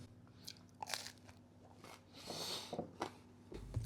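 Bites and chews of a crispy-skinned, soft sourdough pretzel close to the mic, several sharp crunches followed by quieter chewing, with no talking.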